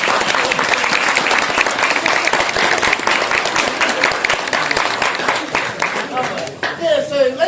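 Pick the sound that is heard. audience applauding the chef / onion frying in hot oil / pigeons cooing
audience applauding the chef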